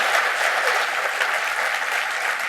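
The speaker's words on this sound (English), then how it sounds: "let's give these guys a round of applause here" A conference audience claps for a travel panel, steady dense applause filling the room at even loudness throughout, with no voices over it.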